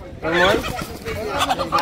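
Country chickens cluck at a village market where native roosters are sold. Short, close clucks and squawks mix with people talking nearby.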